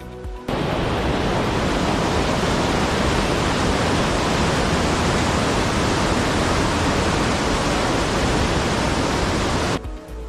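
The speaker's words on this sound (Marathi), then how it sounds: "खूप खतरनाक असा प्रवाह आहे" A dangerous, fast-flowing mountain river rushes beneath a wooden bridge on the Deo Tibba expedition trail, a loud, unbroken roar of churning water that fills the whole stretch before falling away at the end.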